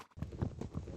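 Horse hooves in Minecraft give a quick run of soft, muffled clip-clop steps, close and evenly spaced, with no voices.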